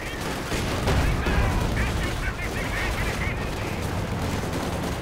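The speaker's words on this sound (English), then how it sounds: "Machine gun, Panzer Grenadiers firing away" Machine gun bursts crackle amid a dense, noisy World War II battle in Company of Heroes 2, as Panzer Grenadiers fire away; rapid rattling shots blend with explosions and din at a steady, moderately loud level.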